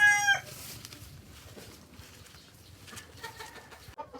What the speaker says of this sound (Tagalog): ito yung mga panlaban pa namin manok